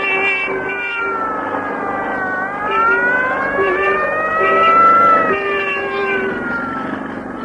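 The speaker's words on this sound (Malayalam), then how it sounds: "ടാക്സി ടാക്സി അതാ അതാ ആ ആംബുലൻസിന്റെ പിന്നിൽ വിട്ടോളൂ." An ambulance siren from a Malayalam radio drama wails loud and close, its pitch sweeping up and down in long waves that swell midway before easing off.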